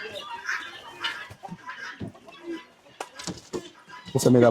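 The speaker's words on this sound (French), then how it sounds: "Ici, vous avez un couple de faisans argentés." A pair of silver pheasants call on a small farm, with several short clucking and crowing notes scattered under people talking nearby, rising to a louder call at the end.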